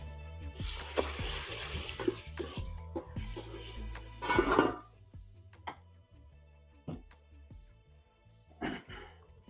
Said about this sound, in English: I'm going to go ahead and wash this rice